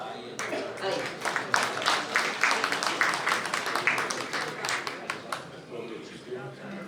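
Scattered applause from the audience at a mushaira poetry recital in Toronto, individual claps rising and falling in a loose rhythm over about seven seconds with room noise beneath.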